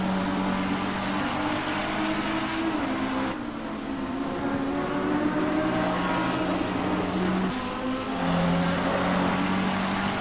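A McLaren 650S GT3 race car pushed hard around Circuit Zolder, its engine a loud buzzing drone that climbs in pitch through the gears, with brief dips at shifts near 3 and 8 seconds; no talk.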